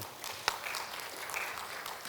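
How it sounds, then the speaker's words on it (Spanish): A church congregation applauds, a steady wash of clapping lasting about two seconds with one sharper clap standing out near the start, at moderate level and without talk. "Un aplauso a los hermanos."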